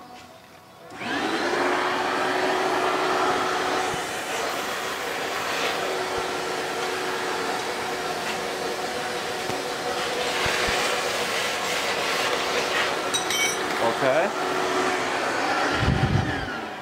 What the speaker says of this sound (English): let me grab the vacuum